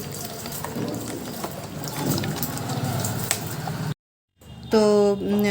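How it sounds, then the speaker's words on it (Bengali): Balcony plants being watered gently so the water falls like rain, a steady close splashing and trickling that runs for several seconds, then a brief silence followed by a different tonal sound. "অনেকটাই জল দিয়ে দিই না হালকা হালকা করে যেমন বৃষ্টি পড়ে সেরকমভাবেই জলটা দিই"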